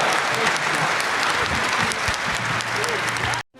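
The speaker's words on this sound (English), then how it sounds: "Huge round of applause." Audience applause for a voice actor panel at Atlanta Comic Con 2023, loud, dense and continuous, with crowd murmur mixed in, cutting off abruptly at the end.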